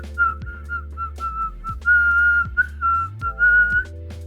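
Someone attempts to whistle, producing a wavering run of short, breathy tones broken by gaps, fairly close and loud, with faint low rumble beneath.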